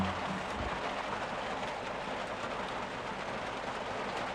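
Steady rain drums on the roof of a parked van near Black Lake at Vail Pass, Colorado, a dense, continuous hiss that stays even and close throughout with no talking.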